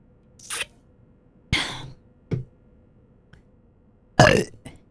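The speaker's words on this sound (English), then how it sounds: "That was just my burp." Burp sound effects from the video game Paranormasight: a few short, separate bursts, the last one louder and longer, against a quiet background.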